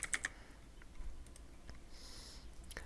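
Quiet typing and clicking on a computer keyboard, a few short key taps in a brief irregular burst near the start followed by scattered faint clicks against a low room hum.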